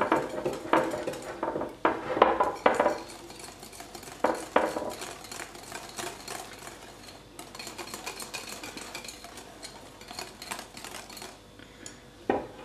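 A utensil clinks and scrapes against a bowl while chocolate syrup is mixed into whipped cream, irregular close clatter with louder knocks early and a faster rattling stretch later, no talk.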